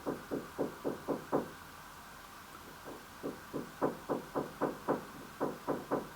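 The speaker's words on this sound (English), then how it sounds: "There's someone knocking on my wall." Knocking on a wall in two bursts of quick, evenly spaced knocks with a short gap between them, fairly faint and heard alone.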